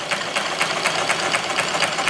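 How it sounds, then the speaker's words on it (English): A spark-plug-less engine being cranked over by an electric drill coupled to its flywheel, turning without firing: a rapid, even rhythmic chuffing and knocking repeating about four times a second, close and steady. "There's a connection between the electric drill and the flywheel of my engine."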